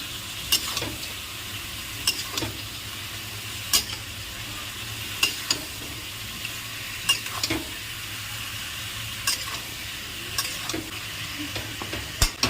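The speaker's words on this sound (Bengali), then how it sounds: "লঙ্কা জিরেটা দিয়েছি এবারে নাড়িয়ে নেব" Cumin and chili paste fry for a duck curry, a constant close sizzle under regular scraping strokes of a spoon against the pan, repeating roughly every second or two.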